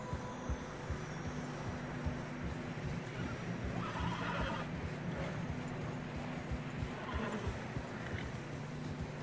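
Steady rhythmic hoofbeats of horses trotting through snow in the video game Red Dead Redemption 2, with a horse whinnying and a low hum underneath.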